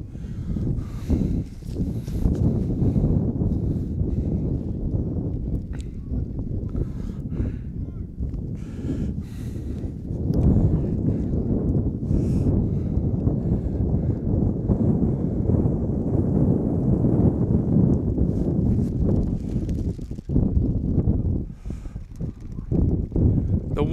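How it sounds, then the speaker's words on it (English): Strong wind gusts buffet the microphone at an outdoor college rugby match, a loud, continuous low roar that rises and falls throughout, with faint crowd or field noise beneath it. "Wind is intense out here."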